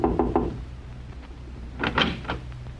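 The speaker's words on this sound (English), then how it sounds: "I'll knock on the door." Knocking on a hotel room door in an old radio detective drama, a quick run of three raps followed after a pause by another cluster of knocks, close and fairly loud.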